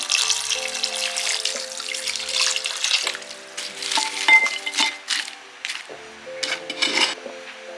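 Stockfish washed in a sink under running water before going into Oha soup: water splashing and trickling with clinks of pieces against the basin, varying in loudness as the fish is handled.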